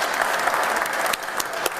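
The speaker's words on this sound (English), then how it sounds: "And they applauded." A crowd at a panel discussion applauds steadily, with dense close clapping and a few sharper individual claps throughout.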